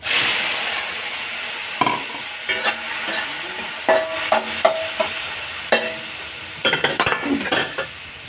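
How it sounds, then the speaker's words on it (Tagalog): Tomatoes frying in hot cooking oil in a pan, sizzling steadily while a utensil stirs and scrapes them, with repeated clinks and knocks against the pan, close and clear with no talk. "may mantika ulit. So, ilagay na natin yung kamatis"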